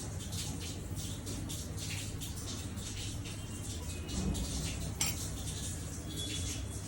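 A spoon stirring and scraping through a crab masala filling of spices, oil and salt in a metal pot, giving continuous close clinking and scraping over a low background hum.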